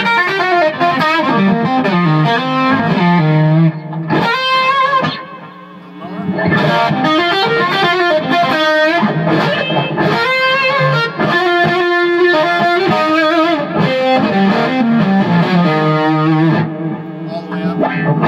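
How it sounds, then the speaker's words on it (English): Electric guitar played through a Germanium Experience fuzz pedal in a studio rig, giving a thick, saturated, heavily distorted tone with sustained chords and melodic runs. It plays loud and continuous for the full stretch, breaking briefly into a short pause midway. "The Germanium Experience fuzz, I usually start around 7, and you can hear the different sounds."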